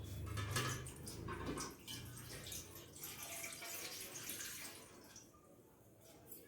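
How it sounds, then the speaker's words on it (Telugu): A steady stream of water pours and splashes into a cooking pot, loud and close, running continuously without pause. "ఫస్ట్ ఒక గిన్నె పెట్టుకొని దాంట్లో వాటర్ పోసుకోవాలి."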